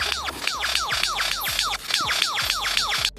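A lyrebird mimicking a blast sound gives rapid repeating bursts, about three or four per second, each a sharp crackling chirp with a falling sweep, loud and close with no voices.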